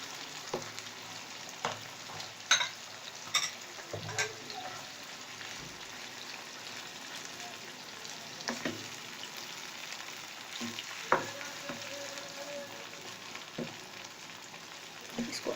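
Minced meat (qeema) for stuffed karela frying in a pan, giving a steady close sizzle with scattered pops and occasional utensil clinks, alone without speech.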